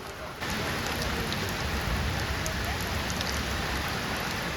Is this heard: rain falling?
yes